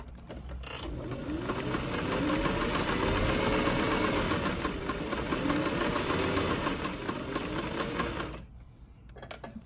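A 1961 Singer 503 Slant-o-Matic Rocketeer sewing machine runs steadily for about eight seconds, its fast mechanical whir and needle chatter holding close and even before cutting off near the end.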